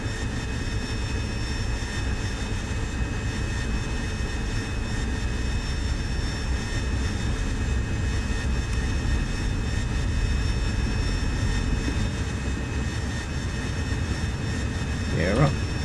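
An AV-8B Harrier jet in the DCS World flight simulator runs up for a short takeoff with a light fuel load, a loud, continuous engine roar with a high whine, steady throughout and ending in a brief rising sweep.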